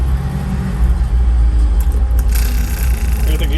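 Manual transmission gears grinding during a clutchless shift: a harsh metallic scraping rasp that rises midway over a loud, rumbling engine drone, close and brief.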